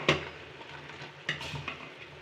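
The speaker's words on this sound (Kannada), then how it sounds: "ಬೆಳ್ಳುಳ್ಳಿ ಹಾಕ್ಕೊಂಡು ಒಗ್ಗರಣೆ ಕೊಟ್ಟು ಸಾಂಬಾರು ಥರ" Garlic tempering sizzles softly in hot oil in a pan as a spoon clinks against metal a few times while stirring.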